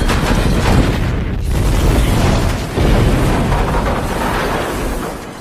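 A blast blowing a hole beneath an armored vault truck in a heist film scene: a loud, close explosive roar with heavy low-end rumble that keeps booming and churning for several seconds before easing, with no talking.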